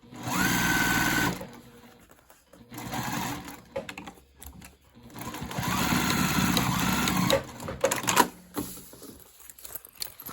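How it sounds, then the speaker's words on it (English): A sewing machine stitches around a backpack pocket, closing it up in bursts of fast, close, rattling whir separated by short pauses as the fabric is turned. "I'm just going to sew all the way around, closing this zipper up, or this pocket up"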